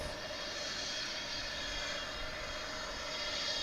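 A Beechcraft 1900C turboprop at DFW International Airport makes a steady, continuous engine roar with a whining hum, moderately loud and unchanging throughout, with no voices.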